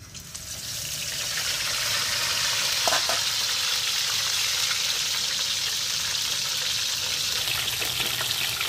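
Midyad rabbit fish frying in a pan, a loud, steady sizzle and crackle of hot oil that holds evenly throughout with no talking.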